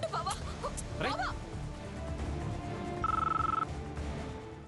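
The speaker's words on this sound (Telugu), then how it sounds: "స్వర్ణ ఫోన్ చేస్తుంది తాతయ్య గారు" An incoming call rings on a telephone in a household scene of a Telugu TV serial: a brief, pulsing electronic trill sounds for about half a second after people talk at the start of the scene.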